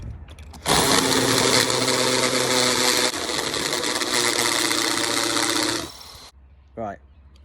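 A power drill whirs loudly and steadily for several seconds while driving a screw, its pitch dropping slightly midway before it winds down, with a brief voice afterward.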